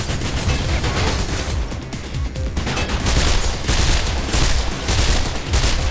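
Gunshots in the video game Mirror's Edge: a loud, continuous volley of rapid shots throughout, with dense overlapping bursts and a brief dip partway through.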